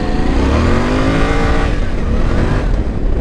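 A Yamaha Tenere 700 motorcycle engine droning loudly and steadily while riding at night, its pitch rising and falling slightly over a few seconds.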